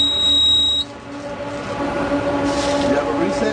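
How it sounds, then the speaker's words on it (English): An alarm beeps with a steady high electronic tone right after a lock is opened, then cuts off, leaving a lower droning hum and room noise. "Once you're open, you will get this alarm."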